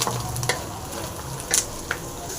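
Roasted green gram and beans stirred in a pan, giving a soft, continuous sizzle with scraping and light clicks of the spoon, including a sharper scrape about midway.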